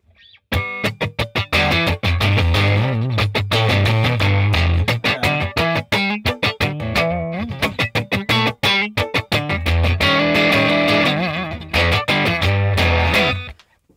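A crunchy, lightly distorted electric guitar through Logic Pro's Gemstone Crunch amp preset plays chopped chords and riffs, loud and up front, with no voices.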